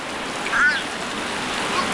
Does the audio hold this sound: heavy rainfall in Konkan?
yes